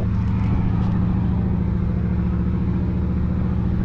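A boat's Mitsubishi 8DC1 engine runs at sea with a loud, steady low diesel drone and throbbing rumble, close by and continuous.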